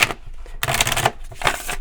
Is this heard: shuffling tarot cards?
yes